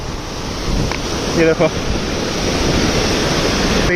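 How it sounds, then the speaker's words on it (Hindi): A glacier-fed river rushes hard along a mountain trek path, a loud steady roar of water close by. Someone speaks briefly over it. "और ये ऊपर से भी पानी बहुत ज़्यादा आ रहा है।"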